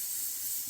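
A pressure cooker whistle vents steam in a steady, loud, continuous hiss that holds without a break for its whole short length, with no voices.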